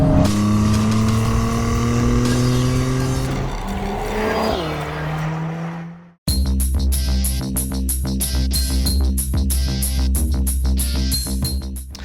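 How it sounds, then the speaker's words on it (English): Mercedes-AMG A45 S on a race track: loud engine drone rising through gears, a sweep and drop as it passes, then a different close, steady engine note with rhythmic pulsing. "after spending the day out on the track in the new Mercedes-AMG A45S"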